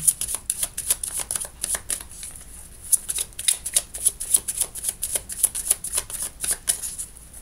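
A deck of cards is cut and shuffled close up, a steady run of crisp riffling flicks with no talk over it.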